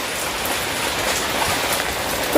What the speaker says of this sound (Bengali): এখন এই যে বৃষ্টি সন্ধ্যাবেলা থেকে